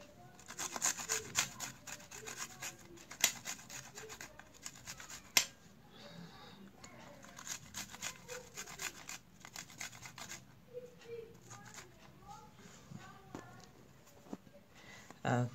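Garlic is rubbed across a grater in quiet, irregular rasping strokes, with soft handling noises, close by and faint, with speech in the background.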